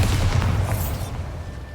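A Bombarda blast spell goes off in Hogwarts Legacy, a dense booming burst of low rumble and crackle filling the short clip, loud and close, trailing off slightly toward the end with no talk.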